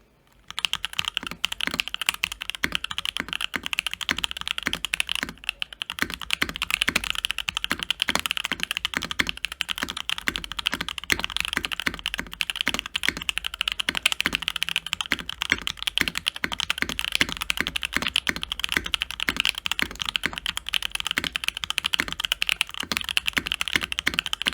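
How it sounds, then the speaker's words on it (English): Continuous fast typing on a keyboard fitted with stock JWICK Black linear switches, a dense, even run of close keystroke clacks, with no talking. "So here's the full sound of the stock switches."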